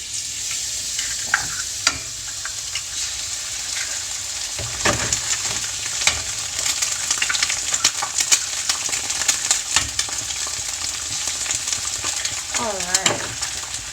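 Eggs frying in butter in a pan, a bright continuous sizzle broken by scattered pops and utensil clicks, with a voice briefly heard partway through.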